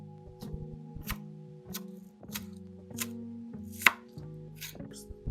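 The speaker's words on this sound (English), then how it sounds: "Let's cut up our green onion or scallion." A knife chops green onion (scallion) on a cutting board for a Korean octopus stir fry, about nine crisp, evenly spaced strokes roughly once a second, close and clear, with one sharper hit midway.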